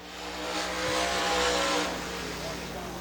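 A late model race car engine roars past at high revs on a qualifying lap at Dixie Speedway, swelling louder then easing off as it speeds around the track.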